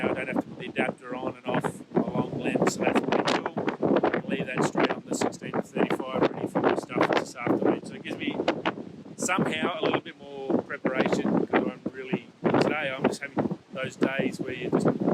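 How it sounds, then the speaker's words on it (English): Strong wind blows outdoors on Rottnest Island, buffeting the microphone with rumbling gusts, while a person talks nearly continuously over it. "The wind is just, yeah, very, very annoying."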